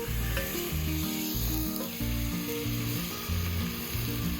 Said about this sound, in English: I got this a little hot. Throwing some butter in there.